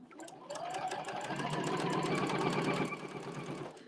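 A sewing machine runs in one steady, close burst of rapid stitching through fabric on a pair of pants before the waistband goes on, loud and continuous for several seconds with no talking.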